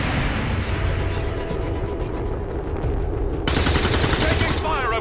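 Gunfire in the video game XCOM 2 with a Star Wars mod, a loud, continuous barrage of shots and booms with a sharp brighter burst of fire partway through.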